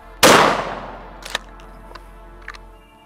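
A single loud, close SPAS-12 shotgun blast cracks out and decays, followed by a few faint mechanical clicks and clacks of the action, with no speech.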